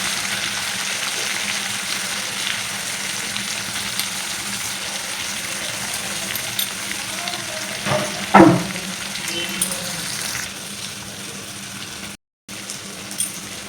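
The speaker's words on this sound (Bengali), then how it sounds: "তো হলুদ নুন দিয়ে আলুগুলো ভেজে আমি তুলে নেব।" Potatoes frying in oil with turmeric and salt for a Bengali hilsa curry, a steady close sizzle throughout with a brief louder stirring burst midway and no voices.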